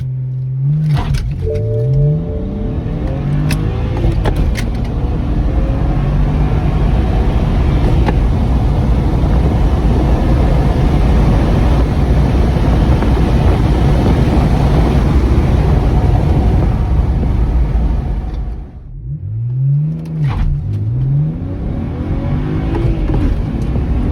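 A BMW 335i xDrive with catless downpipes, otherwise stock, launches and accelerates hard through the gears on a slight uphill quarter-mile run, its loud exhaust rising and dropping at shifts, with a brief lift around the final change.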